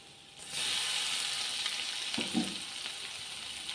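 Crushed garlic drops into hot oil with mustard seeds, asafoetida and curry leaves, bursting into a steady, bright sizzle that continues close and alone, with a few faint clinks partway through.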